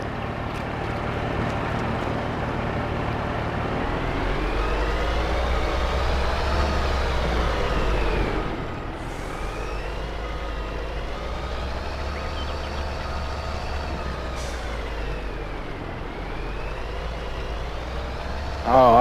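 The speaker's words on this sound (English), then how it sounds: "I think it's his truck. You see how slow it tries to reverse and take off?" A truck in the woods slowly reverses and then pulls away, its engine drone rising and falling in pitch through gear changes, with a low rumble underneath and faint wind.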